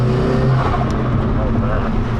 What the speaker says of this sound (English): I love brake boosting on it